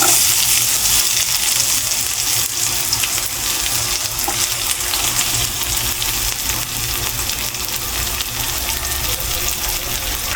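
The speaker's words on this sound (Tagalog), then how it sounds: "Ngayon naman guys, tayo magigisa ng sibuyas at bawang." Onion and garlic sauté in a pan for ginisang ampalaya, a steady loud sizzle and crackle of frying that runs unbroken from start to finish.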